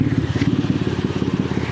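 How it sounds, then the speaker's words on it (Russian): Toyota Camry with a 1MZ-FE engine running with a terrible knock from the engine, a steady fast rhythmic clatter of loud, close knocks throughout. "Значит, стуки в двигателе."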